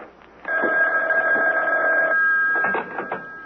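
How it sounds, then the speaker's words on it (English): A telephone rings in an old radio drama scene: a loud, close, steady ring that sounds for about two seconds, then a shorter ring after a brief gap, with no voices. "Reuben, aren't you going to answer the phone?"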